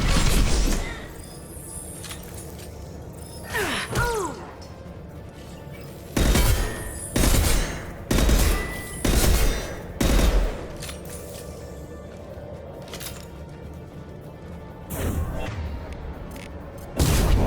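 Heavy weapon fire in the game Mass Effect 2 comes as several loud bursts of gunfire and booms, each lasting about a second, separated by quieter stretches of ambient game sound.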